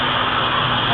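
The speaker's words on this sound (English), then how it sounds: "Now I'm going to open this valve, and it's going to be very loud, so watch it." A valve on a delivery truck is opened after unloading, releasing a loud, steady rush of escaping air that fills the whole moment with broadband hiss, with no voices.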